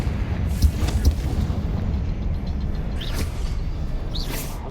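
Confringo blasting spell going off in Hogwarts Legacy, heard as a rumbling low boom with a couple of heavier thumps early on, followed by a sustained roar and debris-like crackle with no talking.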